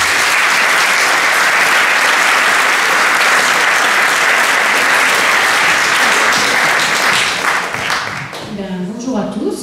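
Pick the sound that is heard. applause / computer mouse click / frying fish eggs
applause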